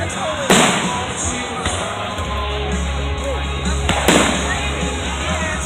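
Fireworks boom in a public display, two sharp loud bursts with crackling tails over steady outdoor crowd ambience, and people talk excitedly nearby between the blasts.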